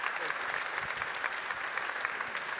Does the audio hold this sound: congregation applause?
yes